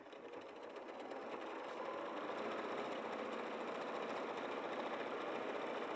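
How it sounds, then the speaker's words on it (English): Quilt fabric sewn in straight lines on a sewing machine, a steady fast motor whir with rapid needle chatter running continuously and close, no talking. "2 more straight lines to sew."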